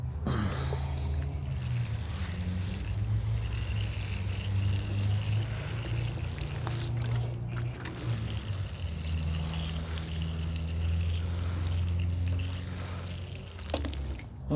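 Water pours and trickles steadily into a propagation container holding coffee cuttings, a soft continuous splashing close by with no talking.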